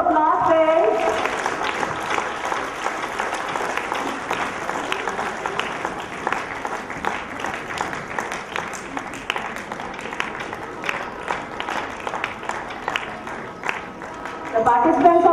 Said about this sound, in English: One more round of applause, friends.